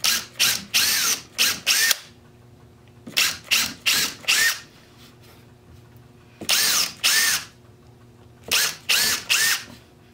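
Power drill driving screws through plywood into an arcade cabinet for a Data East Speed Buggy, loud close whirring bursts in quick clusters of three or four, separated by short quiet gaps.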